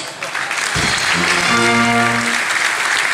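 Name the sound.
audience applause for Mout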